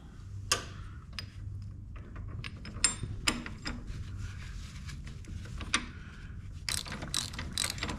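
A ratchet clicks in short bursts while a bolt is snugged down with a large washer beneath it on a Harley motorcycle build, sharp close ticks scattered over a low workshop hum, with no talking.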